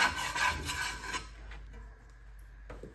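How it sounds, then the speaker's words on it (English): A spatula scraping cooked eggs across a pan at breakfast, a close, rasping rub that fades after about a second into quieter sizzling. "A little scrape just so I have a section where"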